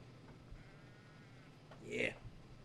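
A sheep bleats once, fairly close, as a single short wavering cry in the Trainz Simulator 3 railway game. It rises over a low constant background hum, and someone speaks just before it.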